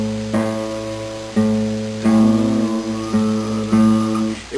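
Guitar being tuned, the next string up plucked in a slow series of about five ringing notes, each close and clear with no talking over them.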